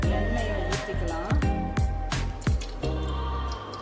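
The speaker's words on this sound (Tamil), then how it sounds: "எண்ணெயை ஊற்றிக்கலாம்." Cooking oil is poured into a hot pan while making gobi fried rice, giving a series of wet dripping and splattering plops in an uneven rhythm, close and fairly loud over faint background sounds.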